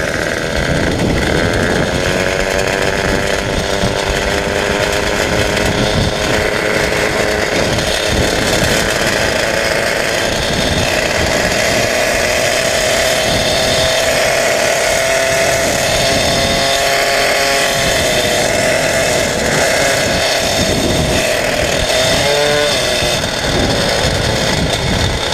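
A Peugeot 103 moped fitted with a Malossi 70cc kit engine, a loud raspy two-stroke buzz running steadily throughout, its pitch rising and falling gently as the throttle is eased open, with no talk.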